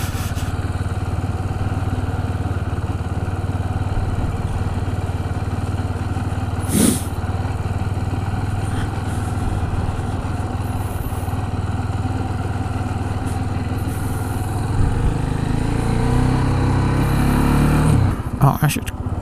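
KTM 690 Duke single-cylinder motorcycle engine running steadily while riding, a continuous low drone with brief revs near the end, heard alongside wind noise and intermittent talk from the rider.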